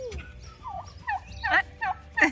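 Turkeys at a farm gobble in several quick, chattering bursts at close range, each call rising sharply and then breaking off, with fowl noise in the background.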